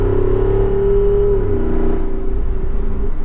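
The V8 in a 2022 Jeep Wrangler 392 on KO2 tires roars loud and close under acceleration, with a strong engine note that holds and then drops as the revs fall away. No talking.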